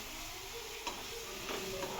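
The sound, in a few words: ginger garlic paste frying in a pan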